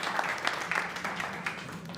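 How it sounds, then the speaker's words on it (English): A crowd at a hackathon award ceremony gives a round of applause, continuous dense clapping with a few sharper claps standing out, heard fairly close and steady throughout. "Ladies and gentlemen, another round of applause."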